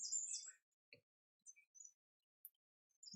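Birds singing at dusk near a treehouse in late May, scattered high chirps and short tweets arriving in separate bursts, faint and distant against near silence.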